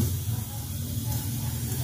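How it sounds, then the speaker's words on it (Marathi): A pressure cooker vents steam in a home kitchen, a continuous close hiss with a low steady hum beneath it, lasting the whole brief moment. "शिट्टी इकडे पण व्हायला लागलेली आहे"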